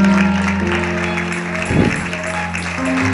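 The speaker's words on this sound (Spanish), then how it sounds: "Dale un fuerte aplauso de verdad al Señor." A church congregation breaks into applause during a Spanish-language service, a brief patter of clapping rising under sustained organ or keyboard tones.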